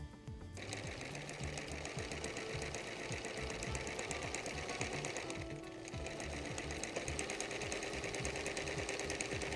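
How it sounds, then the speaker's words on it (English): Sewing machine stitching quilt binding, a fast steady mechanical chatter of the needle running close and continuously with a brief slowdown partway through, no talking. "I'm going to stop sewing 1/4 of an inch from the corner"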